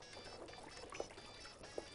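Used cooking oil poured into a homemade soap mixture in a home kitchen: a faint, steady trickling pour with a couple of soft splashes, no voices.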